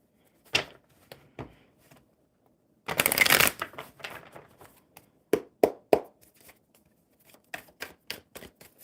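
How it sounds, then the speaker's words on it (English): Oracle cards being shuffled by hand in a quiet room, a series of close, crisp riffling bursts with one long dense shuffle in the middle and scattered sharp taps of the deck between, with no talk. "One more good shuffle."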